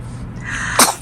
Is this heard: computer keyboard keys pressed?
no